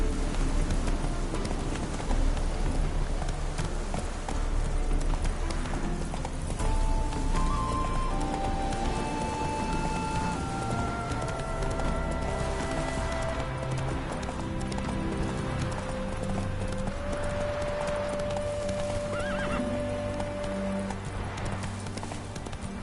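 In The Witcher 3 video game, the horse Roach gallops with a steady, rapid clip-clop of hooves and lets out occasional neighs. Sustained musical tones play underneath.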